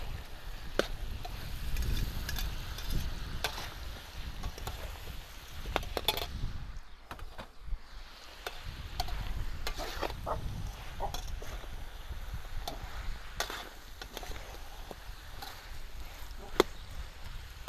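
Oxtail being stirred in a pan with vegetables gives a steady frying sizzle broken by scattered scraping clicks of the utensil, continuing for about eighteen seconds with no talk.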